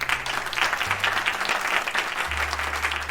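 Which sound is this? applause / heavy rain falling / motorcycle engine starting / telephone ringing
applause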